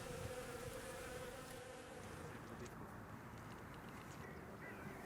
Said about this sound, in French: Les abeilles s'agitent